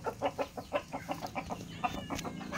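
Bantam chickens clucking in a quick run of about a dozen short, rhythmic clucks, close and fairly soft, with no talking.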